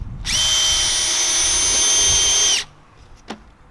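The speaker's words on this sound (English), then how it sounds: "We're just gonna take 4 screws for this length, and we're gonna go top to bottom and just screw them in." A power drill drives screws into the wood of a homemade squat rack: one loud, close, steady whine lasting about two seconds that cuts off sharply, followed by a single brief knock.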